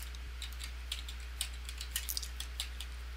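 Quiet keystrokes on a computer keyboard, a light irregular run of clicks over a steady low hum, with no voices.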